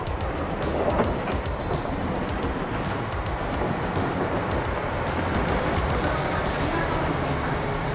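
A Japanese train pulling into Hakodate station rumbles steadily with continuous rolling noise and faint rhythmic clatter of wheels on track, heard from inside the carriage.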